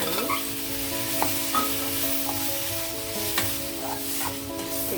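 Chopped tomatoes sizzle steadily in a hot pan of onions for a tomato curry, with intermittent scrapes and knocks of a spoon stirring through the frying.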